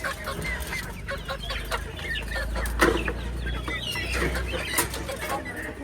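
Roosters about three months old cluck and call steadily in a farm coop, several birds overlapping at close range with no talk.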